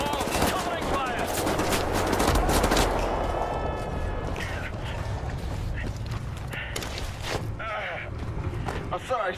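Rapid bursts of gunfire and machine-gun fusillades from the video game Wolfenstein: The New Order rattle loudly and continuously, with mechanical clatter and shouted voices mixed in.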